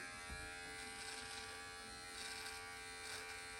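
Electric precision beard trimmer cutting beard hair, a close, steady high-pitched buzz that runs without a break, fairly quiet.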